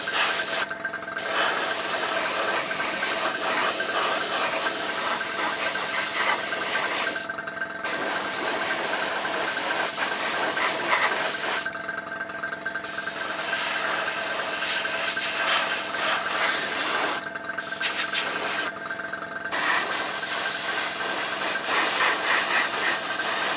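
An airbrush or spray can primes a 1/35 Hobbyboss Merkava Mk 3 LIC model tank: loud continuous hissing bursts, several long sprays broken by short pauses, with a faint tonal whine running through.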